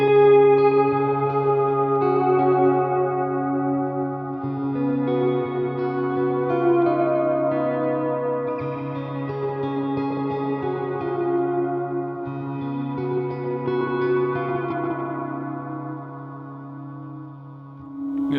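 J. Chester Wave Walker reverb pedal with mix and dwell near maximum, producing sustained, layered ambient guitar tones that swell and shimmer continuously with long washy decay, no talking.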